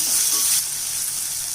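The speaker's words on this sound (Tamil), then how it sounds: "வெங்காயம் வதங்கட்டும்." Chopped large onion frying in oil in a pan for coriander rice, a steady bright sizzle that softens slightly partway through, close and continuous with no talking.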